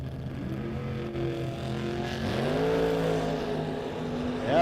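Drag race cars launch off the start line at a No Box 660 shootout, engine tones rising as the pair accelerates, loud and close and growing toward the end.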